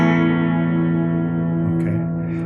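A major chord strummed on an electric guitar across every string but the low E, ringing out sustained and full with effects-laden tone, slowly decaying over a couple of seconds without talk.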